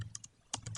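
A short burst of typing on a computer keyboard: a few quick, soft key clicks, a brief pause, then another quick cluster of keystrokes, close and quiet with no voices.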